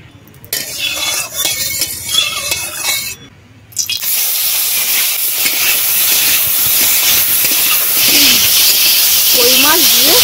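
Koi fish drop into hot mustard oil in a wok. A voice speaks at first, then a loud, steady sizzling hiss takes over and is stirred, with talk returning faintly near the end.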